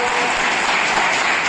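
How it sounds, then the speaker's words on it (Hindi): Steady, dense applause fills an assembly hall as a whole audience claps continuously at an even level, with a faint voice underneath. "मैं चाहता हूं कि पूरा सदन तालियों की गड़गड़ाहट से उनका स्वागत करे।"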